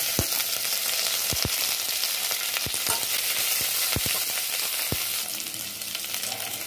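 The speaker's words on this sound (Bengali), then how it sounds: "1টা পেঁয়াজ আছে কুচিয়ে নিয়েছি, দিয়ে দিচ্ছি এর মধ্যে। আর এই 5-6টা কারি পাতাও এর মধ্যে আমি দিলাম।" Chopped onion and five or six curry leaves go into hot oil for carrot masoor dal, producing a loud, close, continuous sizzle broken by sharp spatula scrapes and taps against the pan.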